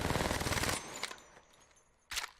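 Apex Legends R99 submachine gun emptying a full magazine: a loud, rapid burst of automatic fire lasting under a second, followed by a short pause with faint clicks and a sharp mechanical reload clack.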